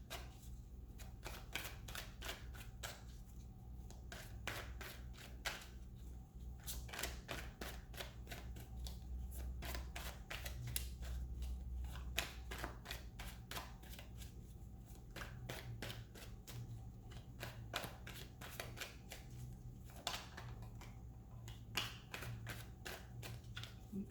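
Tarot cards are shuffled and drawn for a Celtic Cross reading, giving rapid riffling bursts and soft snaps that repeat in quick clusters, quiet and close with a low steady hum underneath and no talking.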